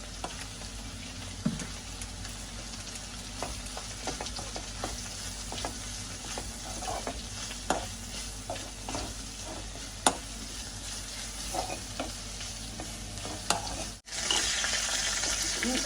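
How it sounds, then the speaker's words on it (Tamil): Grated coconut fries with snake gourd in a pan, a steady close sizzle broken by scraping stirs and occasional sharper clicks of the utensil, ending in a brief cut followed by louder hissing. "தேங்காய் போட்டு நல்லா வறுத்தெடுப்போம்."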